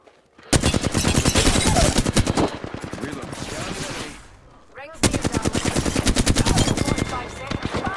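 Rapid automatic weapon fire in Apex Legends: two long, loud, evenly paced bursts of close shots separated by a brief lull, with players talking in between.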